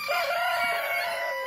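Silkie hens in a backyard coop give a steady, harmonic crowing call that holds for the whole stretch, loud and close with no talk over it.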